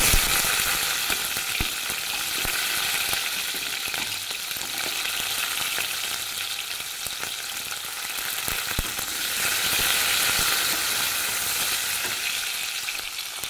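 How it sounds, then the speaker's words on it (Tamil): Steady, crackling sizzle of shallots sautéing in hot oil, close and continuous, with scattered sharp pops and spatters throughout. "நல்லா வதங்கட்டுங்க"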